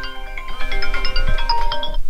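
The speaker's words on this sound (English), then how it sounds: "That's got the ringtone on." A mobile phone ringtone plays a melodic electronic tune with bright, steady tonal notes, fairly loud and close inside a camper van, with no talking over it.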